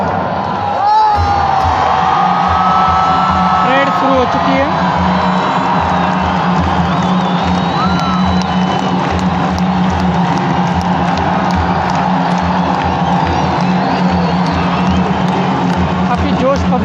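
A large, loud crowd roars, cheers and claps continuously at the Wagah border parade near Amritsar, with whoops rising above the steady din and someone speaking over it early on.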